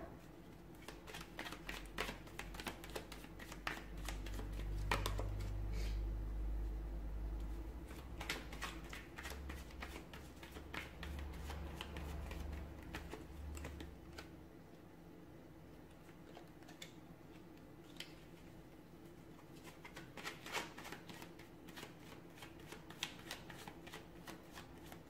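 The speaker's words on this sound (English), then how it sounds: "give the cards a shuffle" A deck of tarot cards is shuffled repeatedly in rapid riffling bursts, crisp fluttering clicks coming in several runs across about twenty-five seconds, close and fairly quiet, with a low hum in the background.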